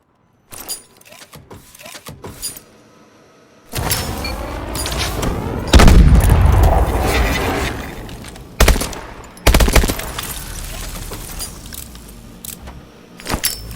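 Grenade blasts during grenade training in the Call of Duty: Advanced Warfare game: loud booming explosions with rumbling tails, mixed with bursts of gunfire and clattering impacts, separated by brief quiet gaps.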